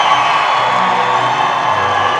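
Dense, steady roar of a basketball crowd cheering and shouting at a boys' state quarterfinal game after a transition layup, loud and continuous with whoops and raised voices throughout.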